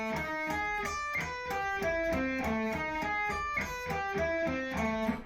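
Electric guitar sweep picking on a mirrored four-finger shape: rapid, evenly flowing arpeggiated notes rising and falling in a continuous stream, close and clean, without talk.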